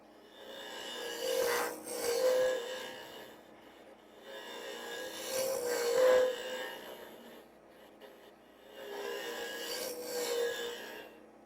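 A woodturning tool cuts into spinning wood on a lathe, throwing shavings as it shapes a small bowl or goblet. Three long rasping, scraping passes swell and fade in a slow rhythm with short quiet gaps between them.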